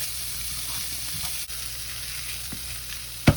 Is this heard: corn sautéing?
yes